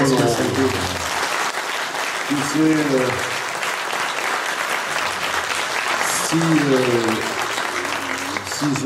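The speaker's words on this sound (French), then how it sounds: "un tonnerre d'applaudissements" Sustained applause fills the room, a dense steady clatter of many hands clapping, with voices calling and chattering over it.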